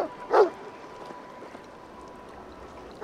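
A dog in the video game Assassin's Creed Valhalla gives a single short bark near the start, then quiet ambient game sound with faint flowing water follows.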